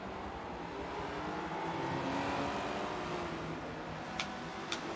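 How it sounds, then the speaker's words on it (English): A loud race car engine from a historic touring car championship race, a steady sustained roar with a gentle swell mid-clip and two brief sharp ticks near the end. "That is a loud engine."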